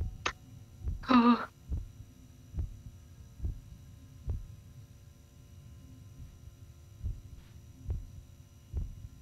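Heartbeat sound in a Backrooms-style horror video game: soft, regular low thumps repeating every second or so under a steady hum, with a brief brighter burst near the start.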